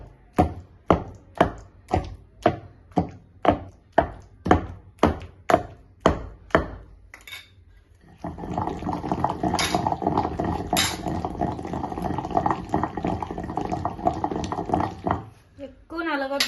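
Chutney ingredients pounded in a stone mortar, with about fifteen sharp, evenly spaced thuds, then a brief pause and a continuous gritty grinding and scraping of stone. A voice is heard near the end.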